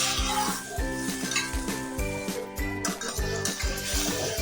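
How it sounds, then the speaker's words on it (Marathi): Capsicum, peas and potato being stir-fried in a pan for veg pulao, with a spatula scraping and clinking against the metal in a quick, regular rhythm over a faint sizzle. "शिमला मिरची व वाटाणा हे आपण छान आता 1-2 मिनिटं परतून घ्यायचं आहे।"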